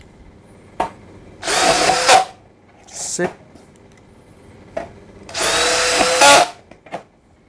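A DeWalt DCD805 cordless hammer drill with a new 10 mm bit bores into 1.8 mm hollow steel tube, giving two long, loud whirring bursts and a shorter one between them. Brief clicks and a little speech fall between the bursts.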